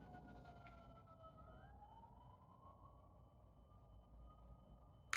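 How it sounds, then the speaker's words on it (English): Emergency vehicle sirens wail faintly in the distance, a steady rising and falling tone behind a low background rumble, with a brief knock at the very end. "I don't know if you hear those sirens in the background."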